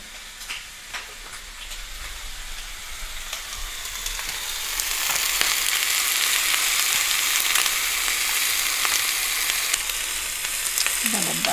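Ham frying in a pan with butter gives a loud, close sizzle with crackling spatters, and the hiss swells and grows steadier midway through.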